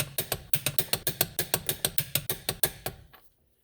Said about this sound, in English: Grab your torque wrench, set it to 80 foot-pounds or 108 newton-meters